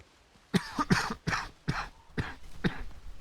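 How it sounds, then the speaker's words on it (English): A person coughs in a rapid string of about six harsh, chesty coughs close to the microphone, each followed by a short gasp, with no talking. "I'm so sorry about the coughing."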